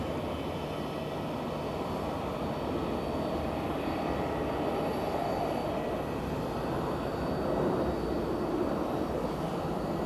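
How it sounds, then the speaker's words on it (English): A Delta Air Lines Boeing 737NG jet at Phoenix airport, arriving from Salt Lake City, produces a continuous, moderately loud engine rumble and rush that holds steady throughout with no voices. "Delta Airlines 73NG. On a short-ish, or pretty short flight from Salt Lake City."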